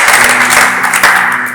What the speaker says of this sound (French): est-ce qu'on peut applaudir pour nous?